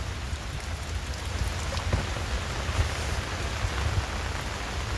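Steady rain falls outdoors on a farm, a dense, even hiss of drops spread evenly throughout, with no voices.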